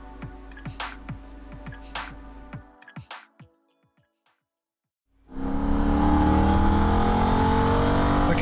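A Holden VF Ute's engine revs loudly through rising gear pulls at the start of a Nürburgring lap. After a brief silent gap, a powerful, steady engine roar takes over.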